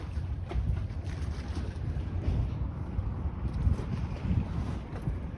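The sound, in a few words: waves crashing on Windsor riverside waterfront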